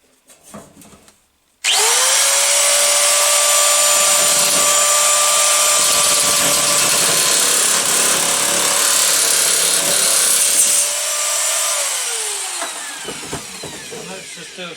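A Lidl Parkside PMK 550 A1 electric nibbler spins up and chews through sheet material, a loud steady buzzing whine with rapid chattering that runs for about ten seconds, then winds down, preceded by brief talk.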